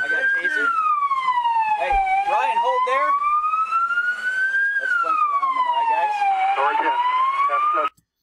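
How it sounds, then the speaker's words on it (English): A loud police siren wails continuously up and down, very close and dominant, with faint background noise beneath it, during an arrest in Prescott Valley, Arizona. "Sirens blaring in his ear."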